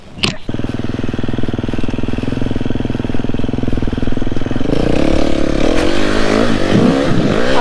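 Enduro motorcycle engine revving loudly up close, starting with a sharp burst, then rough steady rumbling that rises into harder, louder revving in the second half.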